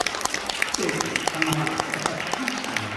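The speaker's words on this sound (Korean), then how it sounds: "박수 치려면 박수에 쳐주세요" Church congregation clapping to welcome a guest pastor at a prayer-retreat revival service, a steady wash of hand claps with a voice speaking over it.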